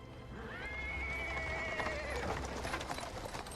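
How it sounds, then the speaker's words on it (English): A horse-drawn cart rolls over paving stone in Pathfinder: Wrath of the Righteous, with a horse whinnying loudly near the start above steady clip-clop hooves and rumbling wheels, all continuous and close. "He is interrupted by the sound of wheels rolling on the paving stone. A cart drawn by a sad little horse appears"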